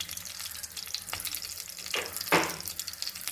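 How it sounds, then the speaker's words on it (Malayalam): A shaped vegetable cutlet for a burger frying on low flame in a pan, a soft continuous sizzle with a few brief louder crackling bursts. "നമ്മളിതൊരു കട്ട്ലറ്റിൻ്റെ ഷേപ്പിലാക്കിയിട്ട് ഒന്ന് ഫ്രൈ ചെയ്യാൻ വേണ്ടിയിട്ടിരിക്കുകയാണ്"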